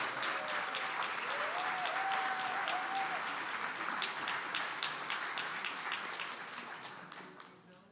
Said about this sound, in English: Clap it up for Sierra.